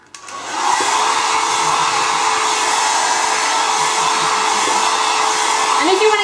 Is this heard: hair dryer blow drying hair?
yes